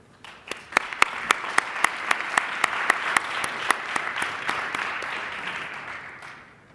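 Audience applause greets panelists at an AI for Social Good discussion, a steady crowd clapping that swells and then fades, with sharp louder claps standing out near the front.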